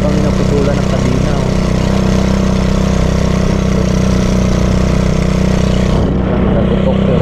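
Motorcycle engine running loud and close, a steady droning rumble that holds constant before the upper tones drop away near the end.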